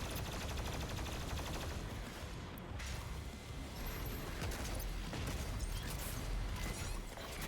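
Fully upgraded shotgun fire in the video game Doom Eternal, heard as a dense, continuous barrage of loud gunfire and combat noise with no clear gaps between blasts.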